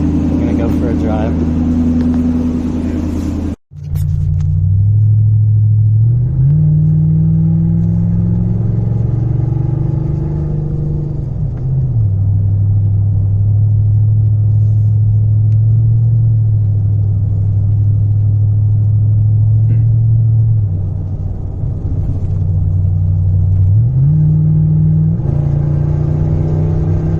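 A 2004 Toyota Tundra V8 drives with its muffler removed, giving a loud, deep exhaust rumble that rises and falls as it shifts through the gears. A brief cut interrupts it early on, and a voice is heard near the start.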